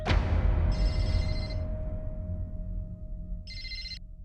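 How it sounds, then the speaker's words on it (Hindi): A phone rings close by in two short electronic bursts separated by a pause, over a low background rumble. "निमरा का फोन है यार।"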